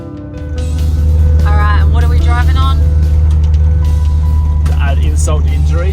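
A car rumbles steadily along a rough dirt road with potholes, with a low engine and road drone throughout and a voice speaking over it.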